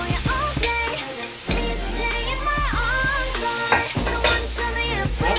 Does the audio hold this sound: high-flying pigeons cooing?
no